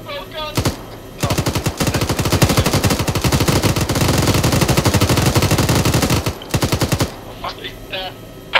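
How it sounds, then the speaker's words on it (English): Aircraft machine guns fire in long rapid bursts in a video game, loud and close, with short pauses between volleys. "Shoot the guns. Shoot both guns."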